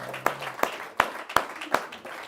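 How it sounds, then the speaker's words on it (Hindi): A handful of distinct hand claps from a small studio audience, about five sharp separate claps in an uneven rhythm rather than a full round of applause. "जोरदार तालियों में।"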